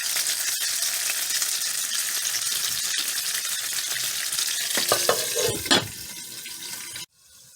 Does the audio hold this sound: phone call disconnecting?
no